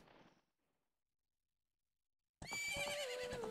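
After a moment of near silence, a horse in The Legend of Zelda: Ocarina of Time suddenly lets out a loud, shrill whinny that trails off into snorting.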